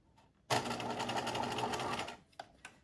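Sewing machine stitching elastic into a knit waistband runs in a single quick, steady burst of about one and a half seconds, close and fairly quiet, then stops with a couple of small clicks.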